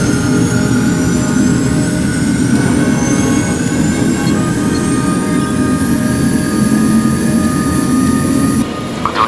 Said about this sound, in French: Commencez la procédure de décollage. Lancez les moteurs.